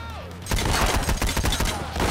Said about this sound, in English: let's get back to shooting